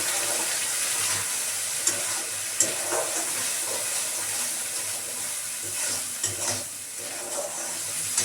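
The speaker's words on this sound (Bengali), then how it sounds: "এবার মশলাটাকে ভালোভাবে ভেজে নেব।" Continuous hiss and sizzle of masala spice paste frying in a pan, with occasional soft scrapes and knocks of stirring, close and steady.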